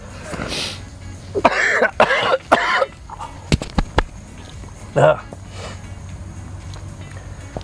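Several harsh coughs in quick bursts, followed by a few sharp clicks and one more cough, with quiet background hum between them.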